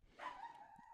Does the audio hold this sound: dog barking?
yes